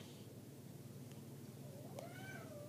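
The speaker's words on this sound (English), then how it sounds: "you hear my cat getting ready to attack my dog there" A house cat gives a rising, drawn-out meow-yowl late in the sequence as it squares up to play-attack a dog, heard fairly close over a steady low household hum.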